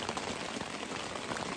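Steady rain patters continuously on surfaces at a wilderness campsite at Mckay's Harbour, a dense, even hiss of drops with no voices.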